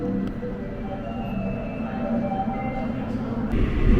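A crowded metro train in Korea rolls along with a steady rumble and rail noise, which swells louder near the end. Faint passenger voices sit under the train sound.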